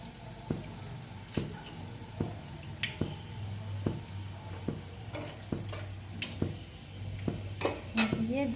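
Brinjal pieces frying in oil with cinnamon and cardamom, a soft steady sizzle broken by regular clacking stirs of a utensil against the pan, close and fairly quiet, no talk.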